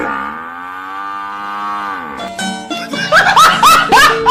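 A buffalo calf moos in a long, steady, close call, then gives shorter bleating cries amid light laughter and chatter nearby.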